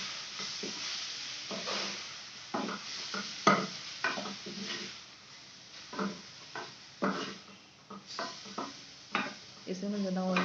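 Finely chopped green chillies sauté in a little oil, with soft sizzling under repeated stirring scrapes and light clinks of a spoon against the pan at an uneven rhythm.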